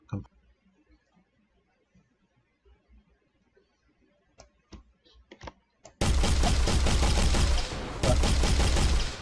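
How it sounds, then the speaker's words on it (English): Video game weapon shooting projectiles in a first- and third-person character setup: after a few sparse clicks, loud continuous rapid automatic fire bursts in close up, with a brief gap before it resumes. "We are shooting in first person, and we are shooting in third person."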